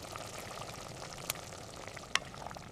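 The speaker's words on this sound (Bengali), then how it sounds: "এবার ভাজা কাতলার টুকরোগুলো মশলার মধ্যে দিয়ে দেব।" Fried katla fish pieces drop into a thick simmering spiced gravy for katla kalia, a steady close bubbling and gentle liquid movement with a couple of small sharp clinks.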